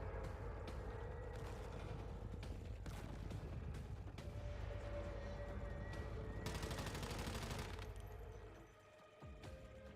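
Rapid, sustained gunfire in the survival shooter Once Human, bursts of automatic shots rattling almost nonstop at close range, with a brief harsh burst near the middle and the firing tapering off toward the end.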